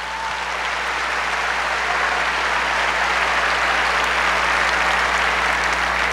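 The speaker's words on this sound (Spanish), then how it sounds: "Un aplauso fuerte para el hermano." A church congregation applauds a brother during a live service, a loud, dense and sustained wash of clapping that holds steady and fills the room with no break.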